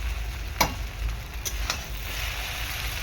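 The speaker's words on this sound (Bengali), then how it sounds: "একটু হালকা করে নাড়াচাড়া করি।" Egg chow mein sizzles quietly in a home kitchen pan while a utensil clicks against the metal a couple of times as it is gently stirred, with soft steady frying noise beneath.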